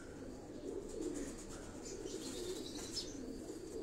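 Pigeons in a large rooftop cage coo softly and steadily, with occasional wing flaps and faint chirps in a continuous, moderately quiet murmur.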